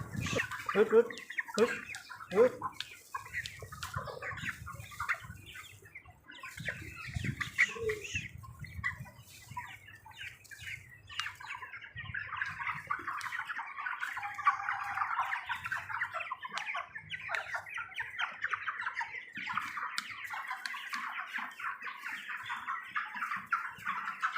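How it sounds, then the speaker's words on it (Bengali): Poultry-farm chickens being given medicine cluck and squawk steadily, a busy flock chorus heard at moderate distance with low thumps early on. "এই যে মুরগিগুলো দাওয়া দিচ্ছি, এতে মুরগিগুলো একটু হাঁটছে"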